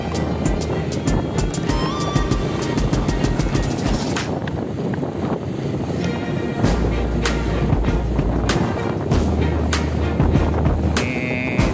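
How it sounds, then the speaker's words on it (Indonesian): Motorcycles speed past along a narrow, crowded city road in Jogja under an overcast sky, their engines forming a steady, loud roar with wind buffeting the microphone and passing vehicles swelling and fading throughout. "banyak motor-motor yang agak ngebut"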